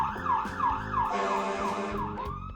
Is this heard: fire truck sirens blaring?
yes